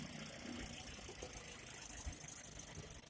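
A petrol car engine idles steadily after starting, a low, even rumble with light rattling, fairly faint and continuous throughout.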